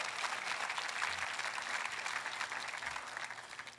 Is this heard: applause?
yes